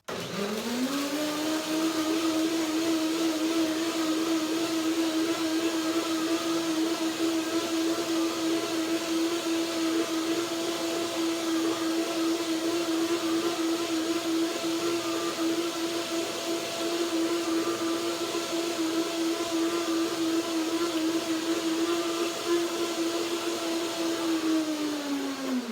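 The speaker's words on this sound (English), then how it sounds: "That's the first blending to break the nuts down." A kitchen blender breaks down cashews with water in one long continuous run, a loud steady motor whine that holds an even pitch for about 25 seconds before spinning down at the end.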